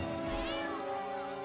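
Cat meowing in the video game South Park: The Stick of Truth, a loud, close, drawn-out wavering yowl over a steady musical background, with no talking.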